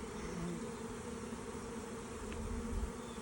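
Honeybees buzz continuously around insurance hives, a dense, steady hum from many insects at close range with no pauses.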